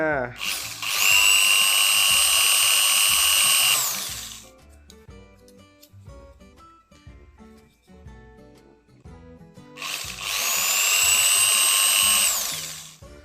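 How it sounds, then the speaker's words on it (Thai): Two loud bursts of an electric drill whirring at high speed, boring through cap gun parts, each several seconds long, separated by quieter clattering and handling noises and some talking. "เจาะเข้าไปเลยจ้า"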